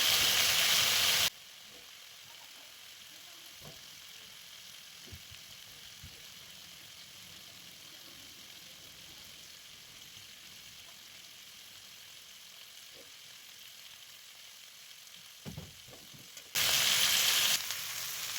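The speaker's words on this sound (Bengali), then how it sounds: "এটাকে ভালো করে এখন অনেকক্ষণ ভালো করে কষিয়ে নিতে হবে।" Masala for a vegetarian chorchori being slowly sautéed in a pan at home, giving a soft, steady frying sizzle at low level, with a few faint scrapes and louder bursts near the start and end.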